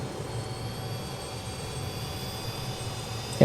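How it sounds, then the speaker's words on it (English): A BAe 146 jet engine spools up during startup in Microsoft Flight Simulator 2020, a steady, fairly faint broadband roar with a thin high whine, ending in a brief louder bump. "Yep, you can just hear the engine starting."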